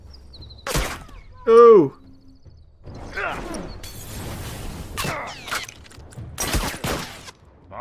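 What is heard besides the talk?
grenade thrown and exploding in a video game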